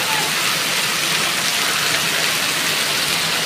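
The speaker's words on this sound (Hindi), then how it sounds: "काफ़ी शानदार बारिश हो रही है इधर।" Heavy rain pouring during a downpour in Mumbai, a dense, steady hiss of water close by that stays constant throughout with no voices.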